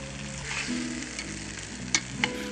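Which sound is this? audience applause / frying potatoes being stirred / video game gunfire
frying potatoes being stirred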